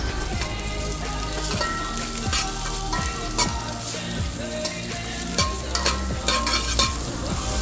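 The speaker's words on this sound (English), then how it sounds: "To the oil I added some onions, pimentos, and hot peppers." Onions, pimentos and hot peppers fry in hot oil in a pot, a dense continuous sizzle with crackling pops and periodic stirring scrapes, close and fairly loud, no talking.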